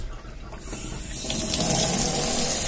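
Tap water runs into a container, beginning softly and building into a steady, hissing gush that continues unbroken.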